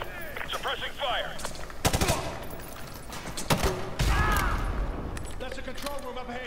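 Sustained suppressing gunfire in MW2 Remastered, with rapid automatic bursts and heavy single cracks over a dense battle din, loud and close, with radio-style voices underneath.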